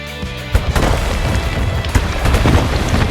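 Cannon fire and explosions in Anno 1800 naval combat: several deep booms land in an irregular series over a continuous low rumble of battle, loud and close, with no talking.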